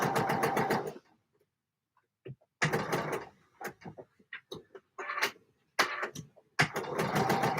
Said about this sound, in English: I'm gonna sew my darts.